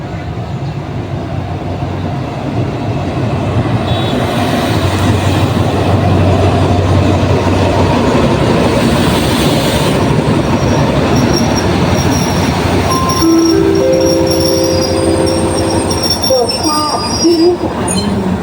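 Diesel locomotive AHK4206 hauling passenger train 418 through a station, with loud continuous rumble, rail clatter and screeching wheel squeal throughout, plus a brief horn-like tone near the end.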